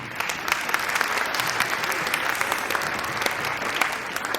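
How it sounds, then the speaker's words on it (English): A school audience at a beginning band demonstration night breaks into steady applause, a dense, continuous patter of many hands clapping at fairly even loudness throughout. "How about big round of applause?"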